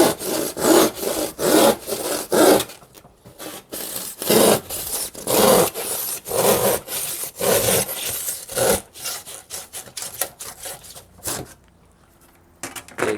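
Sawing through a Thermasheet insulation board outdoors, a steady run of rough rasping strokes in quick rhythm, close and loud, pausing briefly midway and fading near the end.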